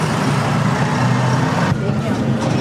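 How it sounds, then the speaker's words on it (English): Tractor driving past on a farm, a loud close engine rumble that holds steady, then quiets and shifts slightly near the end as it goes by, with people talking over it. "I'm gonna let that tractor go by."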